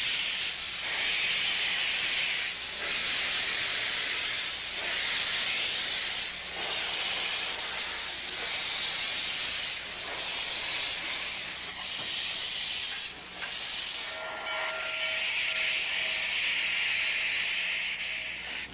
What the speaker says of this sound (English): number 611 moved under steam for the first time in 22 years